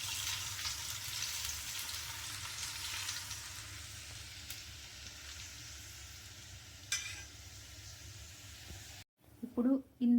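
Oil sizzles steadily as biryani ingredients fry in a pan, a close, continuous crackling hiss for about nine seconds before it cuts off and a voice briefly speaks.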